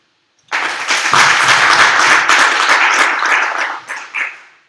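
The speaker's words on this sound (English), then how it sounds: "Please, an applause for her." A conference audience breaks into close, loud applause for a speaker taking the stage. The clapping starts abruptly after a brief silence, holds dense for about three seconds, then thins into a few last claps.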